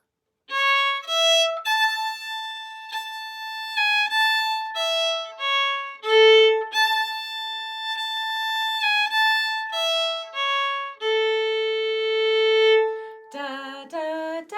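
Scotland the Brave, a Scottish march, is played as a beginner melody on a single sustained wind instrument. It runs as a steady sequence of clear held notes, rising and falling, close and alone with no talking.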